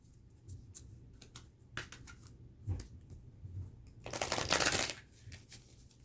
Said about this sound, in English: let's shuffle and get a few cards